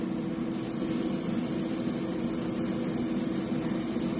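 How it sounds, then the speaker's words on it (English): An airbrush spraying black paint onto a Zombie Shad fishing lure starts with a sudden hiss that holds steady and continuous over a low, constant mechanical hum, with no talking. "Let's make sure that brush is spraying well."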